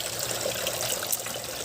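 Water trickles and splashes steadily during a water change in an outdoor backyard crayfish tank, a continuous close wash with no talk.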